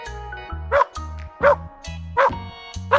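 A dog barks four times at an even pace, each sharp bark standing out over a bouncy music track.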